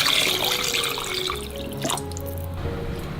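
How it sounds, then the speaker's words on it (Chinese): Water pours and splashes into a clay pot holding flattened olives for a soup, a close, continuous running trickle that thins and fades over a few seconds. "加入适量清水"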